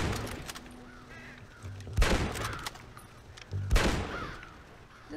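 Two sharp gunshots ring out a couple of seconds apart in Red Dead Redemption, set against quiet ambient game sound with faint animal honks.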